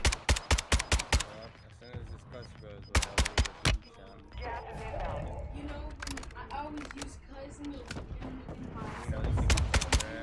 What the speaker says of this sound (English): He's providing suppressive fire over there.